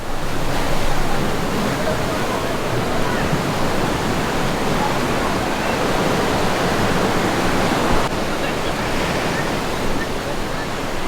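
Strong ocean waves crash and roar continuously at Laguna Beach, a loud, dense wash of surf with steady wind noise across the whole stretch and no pauses between breakers.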